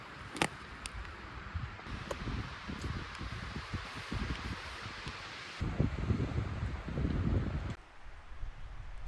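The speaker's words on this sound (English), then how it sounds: "The wind is blowing a bit down here now" Wind blows through woodland, rustling leaves and buffeting the microphone in continuous gusts that swell and ease.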